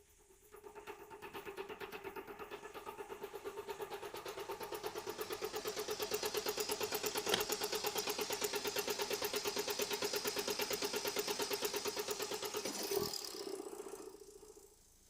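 A car engine cranks, catches and settles into a steady, even idle with a light rattle, close and continuous for most of the stretch; no one speaks.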